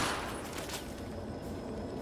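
Dense, continuous barrage of gunfire and explosive blasts, a tank and troops firing at the player during a battle in Fallout 3's Operation Anchorage, loud and steady with no clear breaks.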